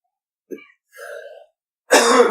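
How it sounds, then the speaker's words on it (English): A short cough, then a throat-clearing rasp, then a loud burst of coughing or spluttering up close, separated by brief silences. "Why don't you cough a little more into the mic"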